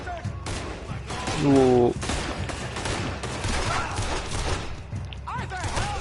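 Bursts of gunfire from a shootout in Red Dead Redemption 2 crack repeatedly over a busy mix, with scattered shots and thuds and a brief shouted voice among them.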